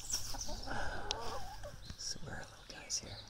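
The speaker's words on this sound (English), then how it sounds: "got to show you the chickens. They always come to the door now." Chickens cluck at the door of a homemade lumber coop, expecting food, with soft scattered clucks close by under quiet whispered talk and faint outdoor noise.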